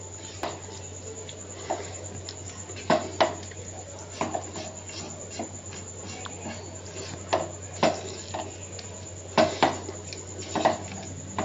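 A semolina and potato mixture stirred in a pan, with scattered light clinks and scrapes of a spoon against metal over a steady low hum, irregular and fairly faint.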